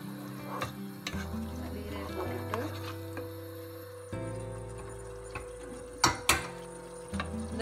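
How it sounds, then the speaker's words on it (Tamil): Carrot, onion and green chili sauté in a pan for coconut milk tomato rice, a soft sizzle with clicking spatula stirs and a low hum, fairly quiet and close. "வதக்கீருங்க கரட்டு வெங்காயம் பச்சை மிளகாயம் அதெல்லாம்"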